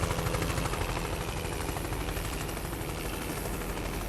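A helicopter flies in the truck-driving game Euro Truck Simulator 2, a steady rapid rotor chop with dense rhythmic thudding that stays loud and continuous throughout.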